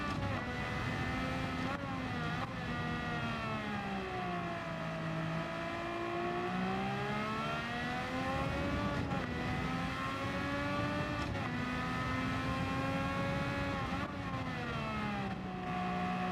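A racing video game car engine revs with VTEC, its pitch rising and falling smoothly as the car accelerates and lifts through gears, and a voice speaks faintly under the steady engine drone.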